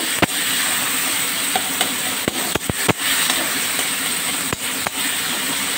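Frying yellow split peas with turmeric in a pan, a steady loud sizzle broken by several sharp knocks as a metal spatula presses down on the food.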